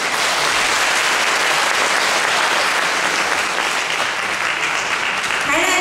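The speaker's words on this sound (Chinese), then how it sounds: "来掌声鼓励。" Dense, steady audience applause fills a concert hall as a physicians' association choir from Tainan is welcomed at a joint choir concert, loud and continuous throughout.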